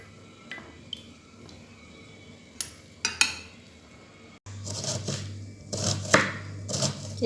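Curly chili peppers being cut on a board in a home kitchen, a few sharp knife chops spaced irregularly and then a denser stretch of chopping over low background hum, with no talking.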